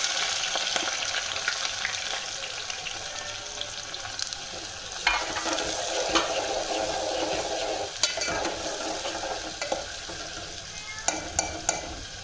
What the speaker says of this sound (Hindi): अब इसके अंदर प्याज डालेंगे।